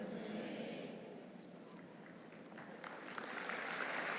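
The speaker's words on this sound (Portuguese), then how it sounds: "Aplaudir o Senhor" Church congregation applauding during a Portuguese-language sermon, a broad, steady wash of many hands clapping that swells toward the end, fairly distant and soft.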